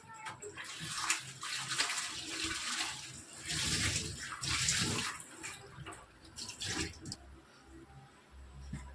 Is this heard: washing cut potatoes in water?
yes